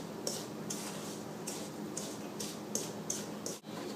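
Wondra flour and a teaspoon of salt being mixed in a bowl for Czech bread dumplings, with a spoon tapping and scraping the bowl in a quiet, regular rhythm of about eight soft clinks.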